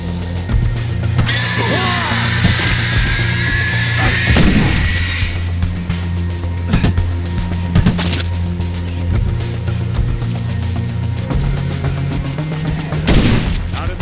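Gunfire in the zombie survival game State of Decay: Lifeline, loud, sharp cracks rising over a steady droning game soundtrack, with a few spaced bursts and a high whining tone in the first seconds.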